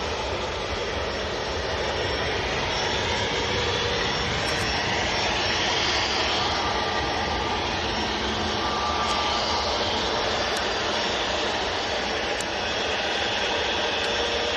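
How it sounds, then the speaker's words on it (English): A Ryanair jet just arrived from Carcassonne gives a dense, continuous engine roar with a steady broadband rush that holds at a constant level throughout. "That is Ryanair from Carcassonne that's just arrived."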